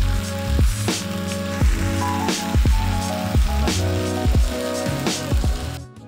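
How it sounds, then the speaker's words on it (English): Bone-in rib steak sprinkled with crunchy sea salt sizzling on a very hot plate, a close, steady crackle with repeated clinks and knocks over it, fading out at the end, no talk. "Place the steak on a very hot plate and sprinkle with some crunchy sea salt. Serve sizzling."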